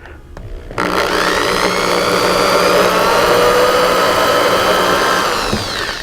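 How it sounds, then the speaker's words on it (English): A power drill bores a small pilot hole into an arcade pinball cabinet, a loud continuous whining motor drone that starts suddenly, holds steady for several seconds, then tapers off. "we're going to go ahead and drill us a little pilot hole, make it easier for that screw to go in"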